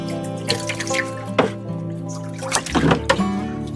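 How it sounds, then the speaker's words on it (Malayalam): Water poured into a home fish tank holding algae, a sequence of splashy trickles and drips with small bursts of bubbling, close by and intermittent. "വേണമെങ്കിൽ ഇതിലേക്ക് കുറച്ച് വെള്ളം വേണമെങ്കിൽ ഇട്ട് കൊടുക്കുക"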